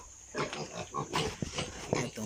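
A mother pig with a new litter of twelve piglets grunts and snuffles up close, short low grunts mixed with faint squeals, with some voices in the background.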